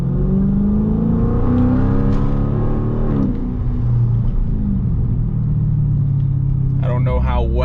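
A 2023 Dodge Challenger Scat Pack with its mid muffler and resonator deleted, its engine rumbling loudly and climbing in pitch as it revs, then settling into a steady low drone; a voice is heard briefly near the end.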